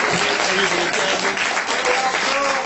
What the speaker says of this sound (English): we just have to once again give a brother a round of applause, Brother Kaba.